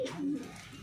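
A large white pigeon of Punjab stock gives a short, close, low coo that fades quickly into quiet room noise.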